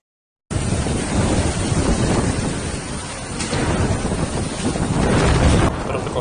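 Tropical storm Nalgae (Paeng) in the Philippines brings a loud, constant roar of wind and heavy rain battering the microphone, starting abruptly and continuing unbroken.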